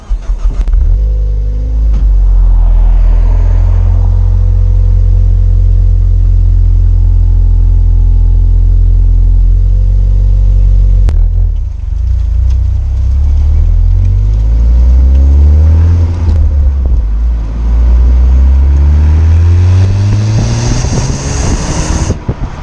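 A Ford Focus ST on its stock exhaust idles with a deep, loud drone, then revs up through several rising and falling sweeps before settling, all close and with no talk.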